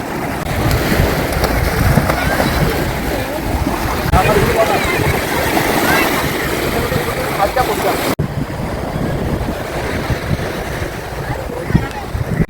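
Sea waves roll and wash continuously at a beach in Malappuram, a loud, broadband surf roar with wind buffeting the microphone, where children jump and play in the water.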